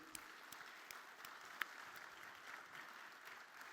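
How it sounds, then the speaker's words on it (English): Audience applause fills a fireside chat hall after a session with a Member of Parliament, a steady wash of many hands clapping at moderate distance, even in level throughout with a few sharper individual claps. "big round of applause to Milind."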